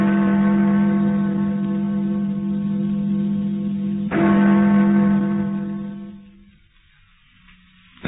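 A church bell tolls twice, each deep ringing strike leaving a long echoing hum that slowly decays, the second fading out into near silence.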